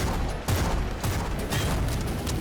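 A few heavy, booming shotgun shots in the video game Bloodshed ring out in quick succession, loud and close, with echoing tails between them.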